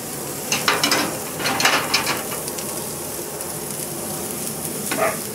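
A stuffed 9-ounce hamburger patty, about an inch thick, frying in a little oil in a pan, giving a steady close sizzle with a few scraping clatters near the start and no talk.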